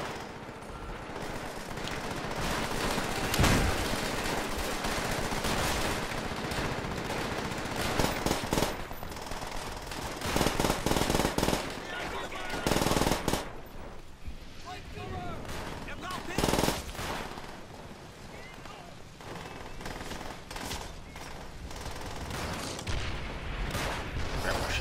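Gunfire in the Call of Duty: World at War campaign, with sustained machine-gun bursts and scattered single shots amid battle noise, several sharp loud cracks standing out over a dense, continuous background of combat sounds.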